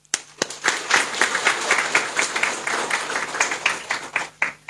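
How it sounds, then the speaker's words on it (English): Audience applause at the Miss Pacific Islands pageant, a crowd clapping steadily and fairly close for several seconds before it tapers off. "So please, one final round of applause."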